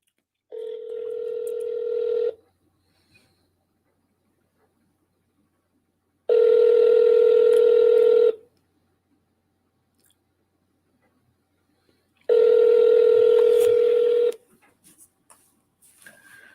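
A phone call rings out on the line: three long ringback tones, each about two seconds, separated by roughly four seconds of silence, clear and close.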